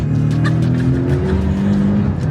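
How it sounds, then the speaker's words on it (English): A Porsche engine roars hard on a hot lap, loud and close, with layered low harmonics shifting in pitch as it revs and changes gear over a couple of seconds. "As of right now, the best sound personally is the engine. The engine is the music."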